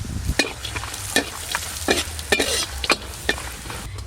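Ground garam masala, cumin, turmeric and chili powder are stir-fried with cashews in a pan, a continuous sizzle punctuated by repeated sharp scrapes and knocks of a spoon in an irregular rhythm.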